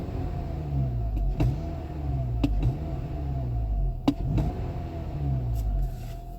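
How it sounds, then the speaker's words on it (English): A 2014 Honda Civic Si with a naturally aspirated 2.4 liter inline-four VTEC engine idles steadily after starting, a close, low, even rumble broken by a few sharp clicks and taps. "Listen to this thing purr."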